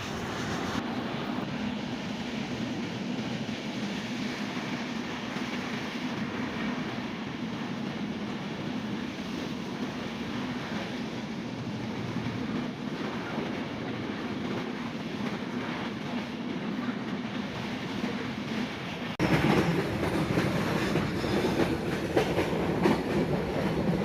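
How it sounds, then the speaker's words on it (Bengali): A passenger train running on rails between Dhaka and Tangail, a continuous rumbling roll with faint clickety-clack heard from on board that grows louder near the end. "এখন ট্রেন হালকা হালকা চলতে শুরু করছিল"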